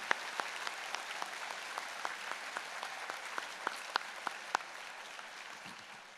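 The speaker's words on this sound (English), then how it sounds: "A round of applause for the entire platform party." Applause at a spring university convocation for the platform party, a steady crowd clapping in a large hall with distinct individual claps ringing out over the mass, fading slightly toward the end.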